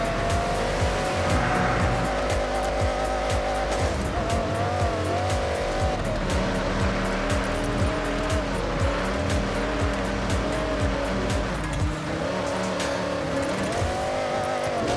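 Racing cars roar continuously in the Forza Horizon video game, engine drone with tire squeal and gear-shift changes, loud and close throughout with no talking.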